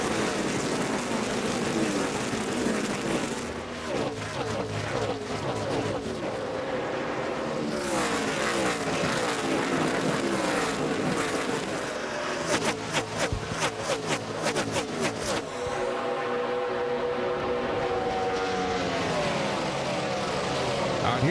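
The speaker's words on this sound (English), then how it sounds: "green flag waves again as Dale Earnhardt Jr. leads Tony Stewart, Juan Pablo Montoya, and Jeff Gordon down to turn 1" NASCAR Cup race cars roar past on the Indianapolis Brickyard track at the 2007 Allstate 400, rising and falling engine whines sweeping by in succession, loud and continuous with commentary-style voices mixed in.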